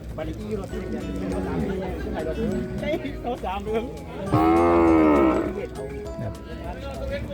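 Cattle at a busy livestock market, with one loud, drawn-out moo rising clearly above constant chatter and someone talking throughout.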